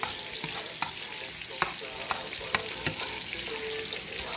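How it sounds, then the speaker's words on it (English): A thick sirloin steak fries in a pan of olive oil and butter, giving a steady close sizzle broken by sharp crackles and pops while it is basted. "And while you're basting it, you're going to be basting the olive oil and the butter with that seasoning in it"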